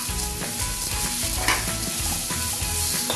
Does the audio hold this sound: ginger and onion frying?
yes